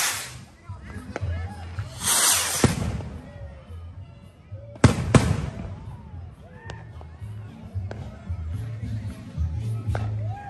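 Fireworks set off together at a 4th of July block party, a burst of loud crackling near the start and another sharp bang midway, with people talking and shouting in between.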